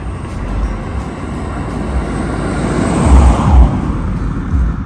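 A loud, rumbling engine roar builds and swells as a vehicle passes close by, with steady low road noise throughout.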